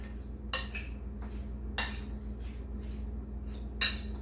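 Metal utensils clink against a bowl while greens are tossed and mixed, with three sharp scraping clatters and a few softer taps spaced across a steady low background hum.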